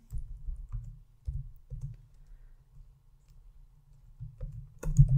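Typing on a computer keyboard while entering a Power BI formula, heard as soft, uneven bursts of keystrokes with short pauses between them and a slightly louder flurry near the end.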